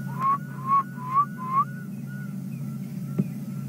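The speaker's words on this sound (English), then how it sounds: "That sounds like a barred owlet." A barred owlet calls at a waterhole during a sunset safari drive: four rising whistled notes in a steady series, then softer fading notes, heard moderately near over a constant low engine hum.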